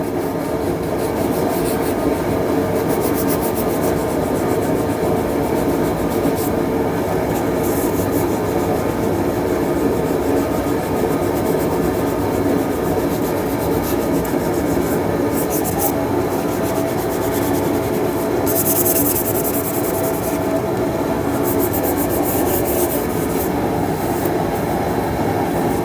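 Sandpaper or a pad rubs gently over lacquer and primer on a subwoofer box in a continuous, even scraping hiss that runs for nearly half a minute. The rubbing stays close and steady, with no talking.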